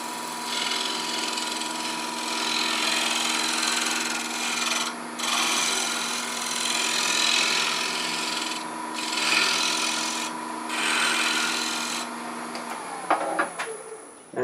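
A wood lathe spins a reverse-chucked bowl as a tool takes a smoothing pass, a loud continuous rubbing scrape over a steady motor hum that breaks off briefly a few times before the machine winds down near the end.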